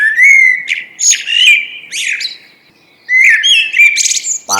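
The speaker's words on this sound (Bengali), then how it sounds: "এই কিচিরমিচির আওয়াজ তো বাড়ির উঠোন থেকেই আসছে।" Cartoon birds chirp and tweet in a home courtyard, with bright, rapid bursts of song that pause briefly before returning loud and close.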